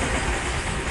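A train runs along an Indian railway with a steady broadband rumble and a faint wheel clatter, continuous and fairly close for the whole moment, with no voices.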